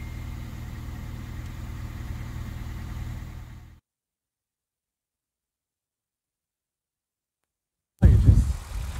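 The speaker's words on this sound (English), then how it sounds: "Okay, we're gonna start the car." A car engine, jump-started with a batteryless ultracapacitor jump starter, idles with a low, steady rumble for a few seconds, then cuts to silence before a sudden burst of engine noise returns.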